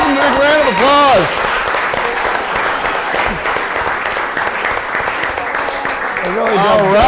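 Audience applauding the chefs at a cooking showdown, loud sustained clapping from a crowd, mixed with whoops and a host's voice talking over it.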